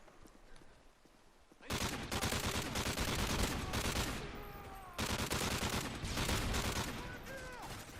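Rapid, sustained automatic fire from defensive turrets in a video game, a dense continuous crackle of shots that starts abruptly and keeps going loudly with a brief dip midway.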